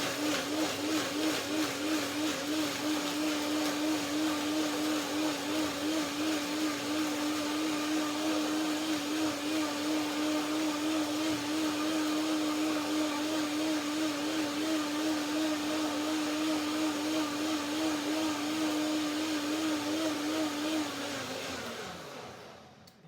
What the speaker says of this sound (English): First blending is the first step, and after a couple of minutes I do the second blending to get the perfect texture.